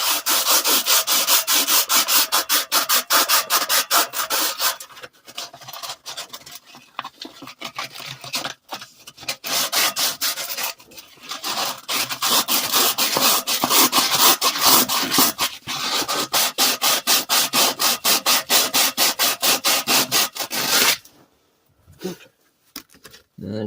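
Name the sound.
smoothing rough edge of muffler tailpipe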